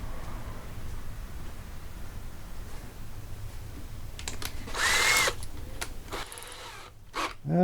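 A power drill boring into a Model T hogshead with dull bits, a brief loud whine of about half a second, then short bursts amid quiet shop noise.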